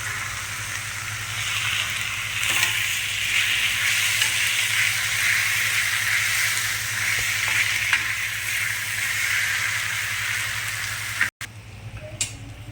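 Garlic fries in a pan of oil for misal, a loud, steady close sizzle with soft stirring scrapes, briefly cut off near the end before resuming more quietly.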